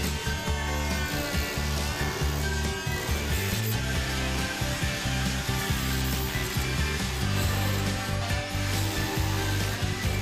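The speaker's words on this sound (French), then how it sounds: "Il est ensuite plus facile d'éliminer proprement le plâtre sous cette entaille avec une massette à tête plate." A flat-head mallet chips plaster away beneath a cut line, giving a steady run of sharp, close knocks and scraping taps over a dense, continuous background.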